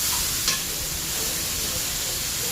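Grated beetroot and carrot fry in ghee for halwa, a dense, even hiss of sizzling with a single brief scrape near the start.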